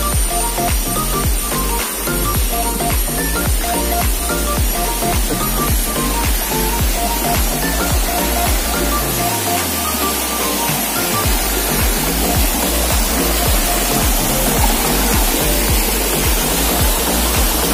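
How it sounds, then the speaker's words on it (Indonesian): A waterfall's stream rushes loud and steady at close range, a dense, unbroken roar of flowing water that runs without pause, with no voices over it. "Ini adalah air, aliran air terjun yang tadi,"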